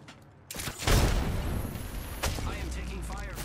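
Gunfire in the Apex Legends shooter: a sharp burst of shots followed by heavy booming impacts and rumbling blasts, loud and close, with a brief voice-like chirp near the end.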